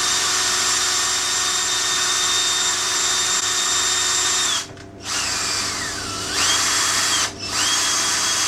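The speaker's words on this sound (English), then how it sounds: "Use your mixer, just a hand drill." A hand drill with a mixer paddle whirs steadily at high speed while mixing expanding foam, close and loud. It briefly stops twice and the pitch dips and recovers under load.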